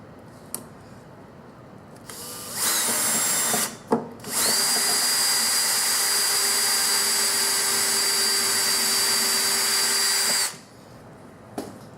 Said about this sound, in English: we'll turn this thing over and we'll drill holes from the bottom.